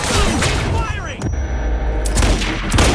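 Rapid gunfire bursts in the video game Quantum Break, loud and dense, with a brief lull in the middle before the shooting resumes, mixed with game effects.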